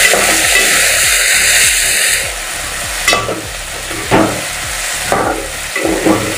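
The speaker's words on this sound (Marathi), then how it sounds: "आता यामध्ये हे बटाटे मी टाकणार आहे आणि तो सुद्धा व्यवस्थित परतून घेणार आहे" Thinly sliced potatoes sautéing in a pan for spicy Marathi-style khichdi, a steady loud sizzle with repeated scraping stirs of a spatula, the frying hiss easing slightly midway as stirring continues in rhythmic strokes.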